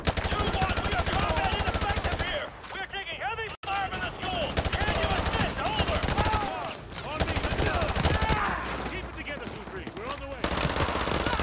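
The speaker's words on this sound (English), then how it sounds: "I'm just shooting, man." Rapid automatic gunfire in the Modern Warfare 2 campaign remaster, including a mini Uzi, sounds in dense continuous bursts with brief pauses, and people talk over the shooting.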